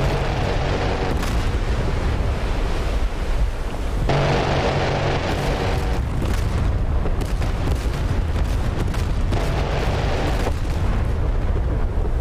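Heavy battleship guns boom and shells explode in a World War II naval battle video game against a Russian carrier group, with continuous loud rumbling blasts and repeated surges of gunfire throughout.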